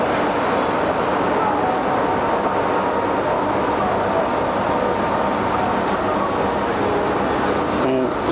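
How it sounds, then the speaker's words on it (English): A French TGV high-speed train rushes past as a steady, loud rumbling roar that holds evenly for the whole stretch, with no clear rise or fade. "There goes the TGV, the fastest railway train in the world."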